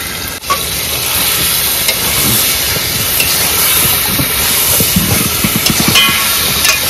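Meat drops into a pan of spice masala and sizzles loudly and continuously, a dense close hiss of frying with small crackles and stirring scrapes throughout.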